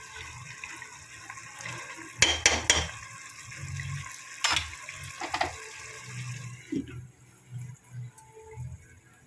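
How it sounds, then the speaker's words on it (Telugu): Tap water runs and splashes at a kitchen sink while basmati rice is washed for chicken biryani, a steady close stream with a few sharp clatters and sloshing bursts partway through. "కడుక్కుంటాం బియ్యము"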